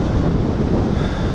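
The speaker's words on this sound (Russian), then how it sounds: "Смотрите, ветер с моря идет." Strong sea wind roars across a microphone on the Baltic shore at Zelenogradsk, a dense, loud, continuous rush of gusty noise with surf mixed in and no voices.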